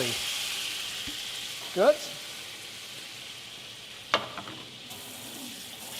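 Pieces of octopus fry in a pan with a soft, steady sizzle, and two brief clatters of stirring or utensils cut through it. A voice speaks briefly.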